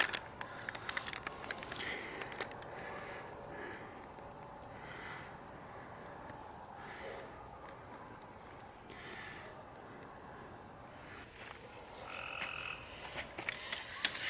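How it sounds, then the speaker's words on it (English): Repeated frog croaks and chirps in a steady outdoor chorus at a campsite, fairly faint, with a few louder calls near the end and no talking. "Y'all hear the frogs starting to come out?"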